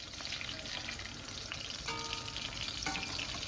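Large pieces of food frying in hot oil, a continuous crackling sizzle with occasional sharper pops and light utensil clinks, close and steady.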